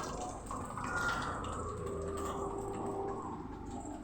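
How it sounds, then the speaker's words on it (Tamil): Dishes being washed by hand under running water, a steady wash of flowing tap water with small clinks and drips, moderately close and continuous. "ஆயா சாமான் செய்கிற சவுண்டு தான் கேட்குது"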